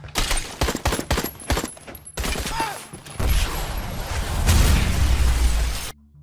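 Rapid bursts of gunfire crackle in quick succession, then a heavy explosion rumbles and roars with a deep, sustained boom before cutting off.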